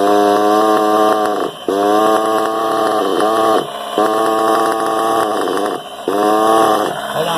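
A small two-stroke engine with a non-stock carburetor on a modified RB Novorossi Rex engine, revving loudly and steadily with brief dips between bursts as the idle is adjusted, close up with no talk.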